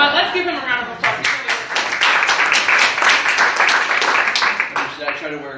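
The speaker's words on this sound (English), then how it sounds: "let's give him a round of applause" A small audience claps together for several seconds, a dense patter of hands that builds and then thins out. Talk is heard over it at the start and again as the clapping fades.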